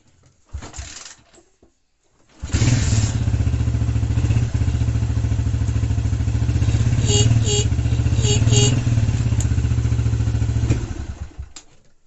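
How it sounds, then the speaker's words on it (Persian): A motorcycle with a run-down battery cranks and catches after a couple of seconds, then idles loudly and steadily with a throbbing, close-up beat for about eight seconds before fading out. "بذارید من موتور رو روشن کنم که"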